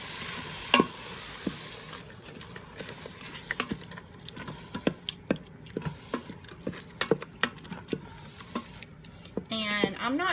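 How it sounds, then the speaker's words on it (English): Spaghetti sauce and ground beef are stirred in an Instant Pot, with repeated sharp scraping and clacking of a spoon against the pot over a soft bubbling sizzle, irregular and close. "And I'm going to throw in my spaghetti sauce. I'm going to mix all that up."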